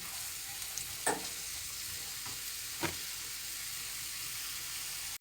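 Onions fry in a pan with a spoonful of hot-sweet pepper paste, making a faint, low sizzle with two or three soft spoon scrapes, for a Turkish cracked green olive börek filling.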